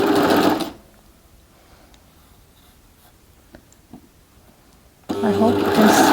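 A sewing machine stitches in two loud bursts at the start and end, with a quiet gap between them holding small handling clicks, while sewing a dress with thread for an invisible seam.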